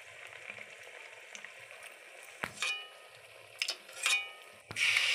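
Pitha cakes frying in hot oil, a steady bright sizzle with louder crackling bursts as batter is turned or added, close by and alone without talk.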